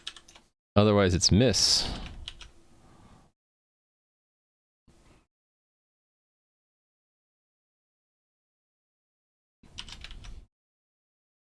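Quick bursts of computer-keyboard typing come in a short flurry of clicks, then scattered isolated keystrokes, with someone speaking briefly over the sound.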